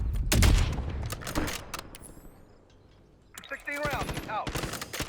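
Gunfire in Call of Duty: Warzone: bursts of rapid shots at the start, then a quieter stretch before more shooting and game effects, with voices talking over it.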